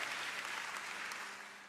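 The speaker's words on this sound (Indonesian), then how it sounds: "Kasih tepuk tangan paling luar biasa buat Tuhan" Church congregation applauding during a sermon, a short burst of dense, steady clapping from a room full of people that fades slightly at the end.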